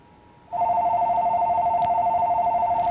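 A telephone rings for an incoming caller on a call-in show, a loud steady electronic warble that starts abruptly and continues without a break, with no voices.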